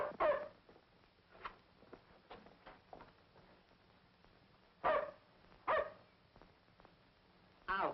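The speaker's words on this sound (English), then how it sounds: "But you can't let him bark." A dog barks in sharp, separate bursts, several loud barks spaced irregularly with quieter yips and whimpers between them.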